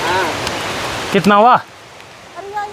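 Steady rain hisses over village paddy fields in the Uttarakhand hills while someone speaks briefly over it. The rain then drops to a quieter background.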